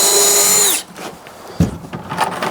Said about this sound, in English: Put our 2 screws on.